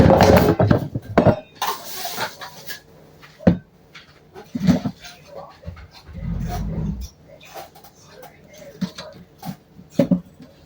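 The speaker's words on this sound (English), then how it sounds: "You mix all that goodness together." Crustless chicken pot pie filling is stirred in a dish, with irregular clatters, scrapes and knocks of a utensil against the dish spread across the stretch at close range.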